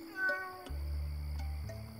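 A cat meows twice in quick succession, close and clear, in an animated film scene, the calls fairly soft against a quiet backdrop with low ambient hum.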